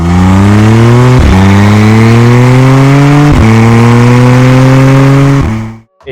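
A McLaren Artura Spider hybrid supercar's engine revs hard, loud and close, its note climbing steadily through three or four rising sweeps broken by brief gear-change dips before cutting off at the end.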